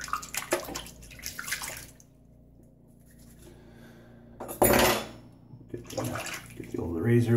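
Tap water runs while a Wilkinson Sword safety razor is wetted before a shave, a steady splash with a loud burst partway through and someone talking over parts of it.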